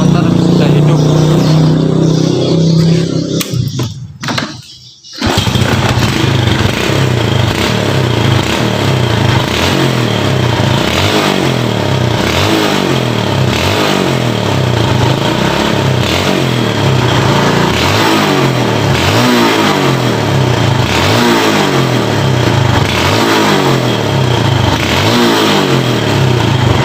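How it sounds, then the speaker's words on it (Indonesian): After a brief pause, a Yamaha Jupiter Z motorcycle engine starts and runs close by, its throttle blipped in a steady series of revs after a fix to its faulty stuttering acceleration. "dan motor sudah hidup."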